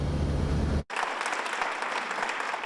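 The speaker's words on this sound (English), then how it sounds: "The clapping acknowledging Newark is getting the upper hand on crime" Crowd at a Newark public event on falling crime bursts into steady clapping right after an abrupt cut, a brief, even patter of many hands.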